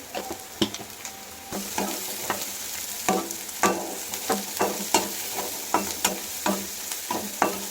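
Sliced mushrooms with turmeric fry in a pan, a steady close sizzle broken by repeated scraping stirs and clacks of a spatula, no talking.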